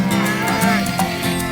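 Low, drawn-out lowing of a water buffalo nearby as it is led back to its pen, with rhythmic clanking and background voices.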